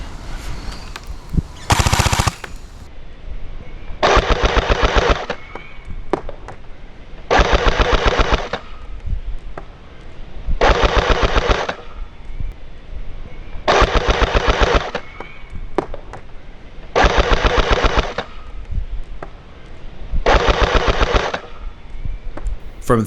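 A Sturmgewehr 44 gel blaster rated at 390 fps firing outdoors at a target 30 meters away, a repeated pattern of short rapid-fire bursts of loud mechanical shots separated by pauses of a few seconds.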